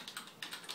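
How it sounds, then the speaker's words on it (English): Quick light keystrokes on a computer keyboard, a short soft run of several close taps in a quiet room. "in fact, I'll type her out here"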